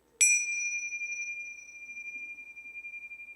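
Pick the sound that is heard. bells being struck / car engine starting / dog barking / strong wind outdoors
bells being struck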